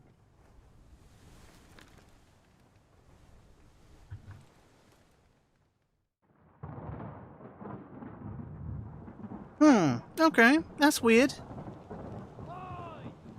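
A thunderstorm in Return of the Obra Dinn rolls in as low rumbling that swells partway through, joined by shrill wavering tones over the noise; a voice speaks briefly.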